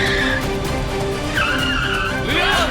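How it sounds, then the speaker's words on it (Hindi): A car's tires skid and squeal loudly as the car turns sharply, with long rising and falling screeches over steady engine and road noise. "आजाद भाई गाड़ी मोड़े, रोक दे गाड़ी"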